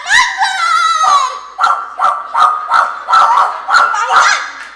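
A voice imitates a dog barking: a drawn-out howling call, then about eight loud, close, evenly spaced bark-like yelps.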